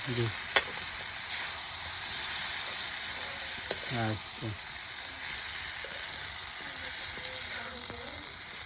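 Chaicha mohar wild greens frying in a pan while being stirred, a steady hiss and sizzle with scraping spoon strokes, close by; a few faint voice-like sounds come through briefly.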